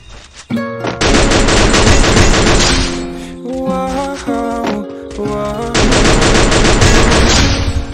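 Holy Beast M60 Evo machine gun in the Free Fire game fires sustained automatic bursts, loud and close, with a short pause midway before another long burst, set against game music tones.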